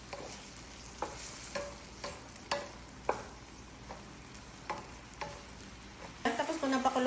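Utensil stirring chicken and vegetables in a pan, with scrapes and light clacks every half second or so over a soft sizzle, then a louder burst of frying at the end.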